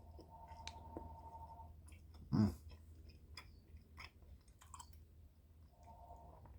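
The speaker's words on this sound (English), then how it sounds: "I'm just tearing into some candy real quick." Candy being chewed, with soft wet mouth sounds and small clicks close to the microphone and one brief louder crinkle or bite burst in the middle, over a quiet background hum.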